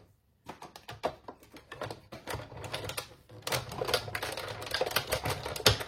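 A die-cutting machine runs paper through for a box envelope, giving a steady run of close, sharp mechanical clicks and clacks that grow denser and louder toward the end, with no talking.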